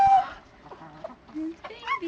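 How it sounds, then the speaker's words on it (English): Pet chicken clucking close by, a few short throaty clucks and squawks mixed with people talking at the same time. "A chicken."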